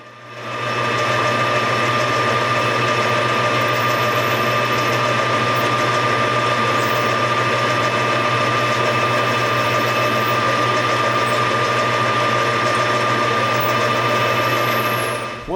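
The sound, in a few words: drilling a hole in brass pommel on lathe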